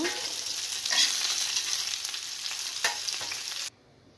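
Fish coated in turmeric and salt fries in a pan, a close, bright crackling sizzle with a couple of stirring knocks, then cuts off abruptly near the end, with no talking.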